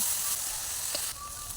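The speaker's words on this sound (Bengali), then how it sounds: "তো টমেটো বাটা দিয়ে এটাকেও আমি ভালো করে মশলাটা কষে নেব।" Spice paste with ground tomato sizzling in hot oil in a pan, a steady soft hiss with a brief stir near the middle, fairly close and uninterrupted by talk.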